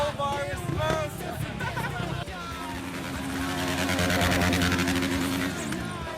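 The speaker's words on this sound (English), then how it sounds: "They said bring my bike down, so I knew that meant burnouts after the podium." A motorcycle does a burnout after a race podium, its engine revving hard and holding a steady high-revving drone that builds in loudness, mixed with crowd noise and voices.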